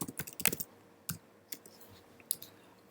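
Someone types on a computer keyboard while filling in an office number in invoice management software, a handful of quiet, close key clicks in uneven bursts with no voices.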